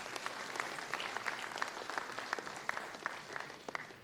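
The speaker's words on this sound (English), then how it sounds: "I really love a big round of applause for all the reviewers and mentors" A conference audience at the PyCon India 2024 closing address applauds the reviewers and mentors, with moderately dense clapping and distinct individual claps popping out, heard fairly faint and distant.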